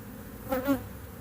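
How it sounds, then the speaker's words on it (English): A close buzzing of honey bees around a hive, swelling briefly as one passes near, over a steady low hum of many more in the background. "It's a lot of bees right there."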